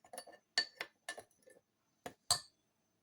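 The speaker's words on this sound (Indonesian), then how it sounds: "Kita aduk sampai tercampur ya." A spoon clinks against a bowl while a shrimp dish mixture is stirred, giving six short, separate taps at an uneven rhythm, close and fairly quiet, with no talking.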